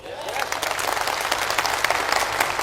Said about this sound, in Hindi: इस काम के लिए ताली बजना चाहिए कि नहीं?